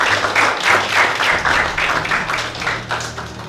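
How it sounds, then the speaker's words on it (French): An audience at a French-language awards show elimination round claps loudly in pulsing waves, a fairly rhythmic swell of applause over a low steady hum that carries on throughout. "Encore applaudissez pour vous."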